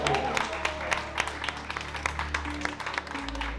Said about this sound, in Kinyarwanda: nimufashe gukoma amashyi yo gukenguruka